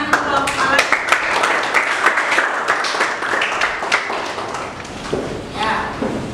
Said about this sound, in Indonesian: Sekali lagi tepuk tangan untuk kelompok kalian